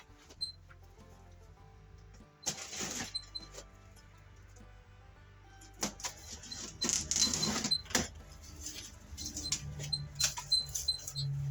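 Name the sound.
unpacking a paint sprayer from its box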